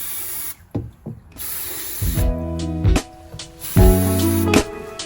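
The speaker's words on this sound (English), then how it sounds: "This is why I'm emptying out so many bottles of brake cleaner in this" Brake cleaner sprayed from an aerosol can onto a car differential being prepared for welding: two close, sharp hissing bursts, followed by a louder steady droning whine with no talk.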